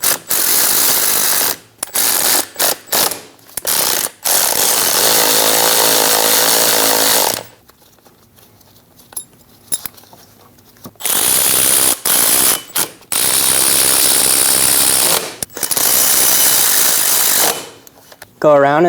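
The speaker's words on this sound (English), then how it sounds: "Go around and get all the bolts started. Snug the bolts down." Close, loud, harsh runs from a ratchet snug the fuel tank sending unit flange bolts on a Dodge Durango 5.7L V8, with quiet pauses between the bursts.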